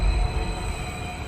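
A passenger train runs steadily, a continuous low rumble with faint rail hum filling the short stretch without a break.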